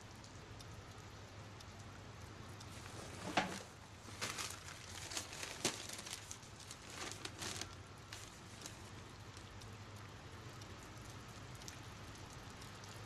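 Heavy rain falls steadily as an even, quiet hiss throughout, with a brief cluster of louder patters and drops in the middle and no voices.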